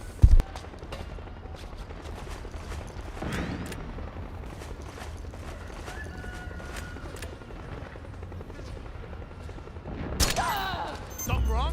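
Gunfire in the Metal Gear Solid 4 video game, heard as a steady roar of combat noise with scattered sharp shots and a louder burst near the end, set against game sound and talking voices.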